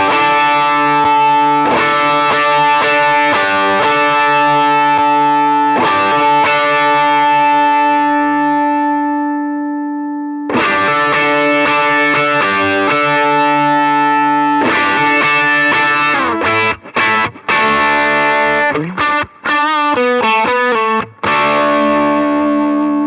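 A distorted electric guitar plays sustained chords and riffs through a Walrus Audio Voyager MkII overdrive pedal with upper mids reduced, loud and continuous, with a brief pause before faster picked notes.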